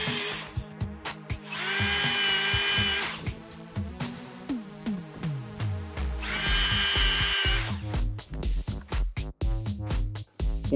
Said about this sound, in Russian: Соединение фиксируем при помощи саморезов.